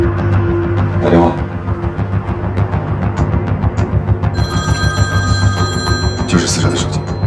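A mobile phone belonging to a murder victim rings with a steady repeating electronic tone, fairly loud and close, while people talk over it.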